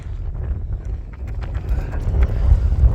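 Strong wind on a Utah road trip buffets the microphone with loud, low, continuous rumbling gusts that build toward the end.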